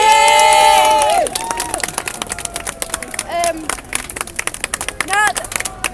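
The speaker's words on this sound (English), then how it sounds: "Round of applause, please" A crowd applauds and cheers after a speech. A loud rising and falling tonal sweep opens, then sparse claps and bursts of shouting and cheering rise and fall in uneven waves.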